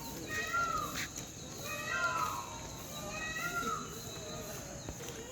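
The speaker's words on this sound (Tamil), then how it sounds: "மயில் கத்துற சவுண்டு கேட்குது பாருங்கள்." Repeated high, wailing peacock calls rise and fall over steady outdoor ambience near a hotel swimming pool in Madurai, India, with a few distant cries and faint voices in the background.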